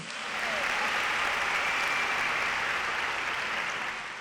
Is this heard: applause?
yes